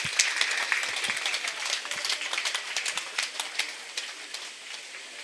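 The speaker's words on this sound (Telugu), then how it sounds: "గట్టిగా చప్పట్లు కొడదాం." Scattered audience clapping at a meditation hall opening ceremony, a steady patter of many hands rising and easing over several seconds with no voices.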